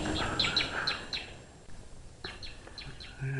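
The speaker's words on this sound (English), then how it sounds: "And noisy bird." A bird repeats short, sharp chirping calls in quick bursts during a neighborhood walk in Old Town Suisun City, moderately close over faint outdoor background noise.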